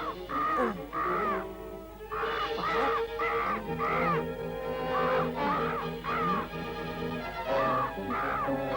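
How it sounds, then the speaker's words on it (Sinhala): Cartoon crow cawing in a Sinhala-dubbed animated series, repeated harsh caws in an irregular rhythm, loud and close, continuing over a steady musical background with no talk. "ඔන්න කපුටා එනවා."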